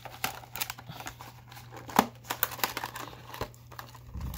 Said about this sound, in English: Get this cardboard out of the way.